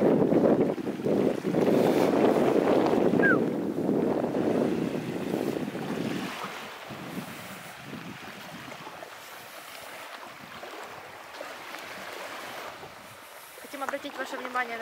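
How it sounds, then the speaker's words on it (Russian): Evening surf rolls onto the beach at Koblevo on the Black Sea coast, a loud, steady wash of waves with heavy wind buffeting early on, then settling into a softer, continuous rush. "Вот так выглядит вечерний пляж."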